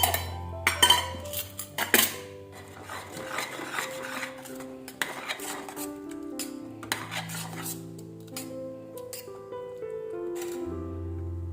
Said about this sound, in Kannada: ಈಗ ನಾನು ಪಾತ್ರೆನ ಒರೆಸ್ಕೊತಾ ಇದ್ದೀನಿ